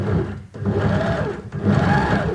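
A sewing machine runs a long basting stitch through fabric pieces placed right sides together for a scrubs V-neck band, a steady close motor whir with two brief dips in speed.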